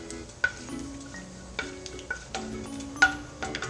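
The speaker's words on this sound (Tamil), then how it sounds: "இந்த முந்திரி பருப்பு நல்லா வறுத்துக்கலாம் நெய்லேயே." Cashew nuts fry in ghee with a soft, quiet sizzle, broken by several sharp clicks and taps of a spoon stirring in the pan.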